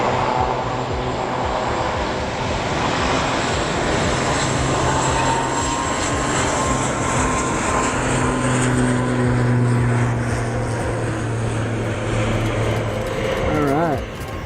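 A fixed-wing aircraft on its departure roll from Madeira airport, a steady engine roar that holds loud and close for most of the stretch, then cuts off abruptly near the end.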